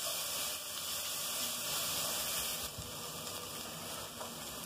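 Annatto, saffron and hot paprika sizzle steadily in a pan while being sautéed for a rooster-head broth, a continuous close frying hiss with no talking.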